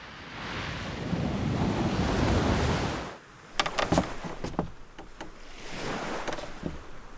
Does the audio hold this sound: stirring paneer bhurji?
no